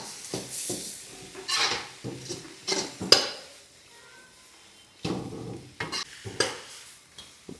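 Tomatoes frying in oil in a pan for hotel-style chicken sherva, with a soft sizzle under repeated scraping stirs and clinks of a spoon against the pan, in uneven bursts separated by quieter pauses.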